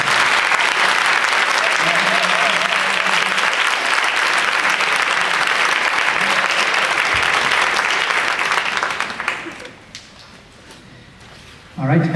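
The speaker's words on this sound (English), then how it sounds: "So please give everyone a huge round of applause." Loud, sustained applause from a large audience at a speech contest's encore and awards event, steady for about nine seconds before fading away, with faint voices and cheering mixed in.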